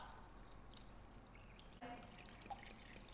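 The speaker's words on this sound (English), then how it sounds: "Now I'm going to be filling it up with reverse osmosis water." Reverse osmosis water pours into a slow cooker holding beef bones, a faint steady trickle and splash with a small shift partway through.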